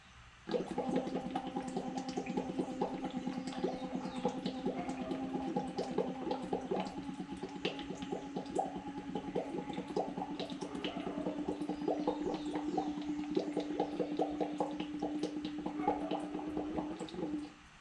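Bubbling water from blowing through a tube during a vocal projection exercise, a steady stream of gurgling bubbles carrying a sustained hummed pitch, close and continuous for about seventeen seconds before stopping abruptly.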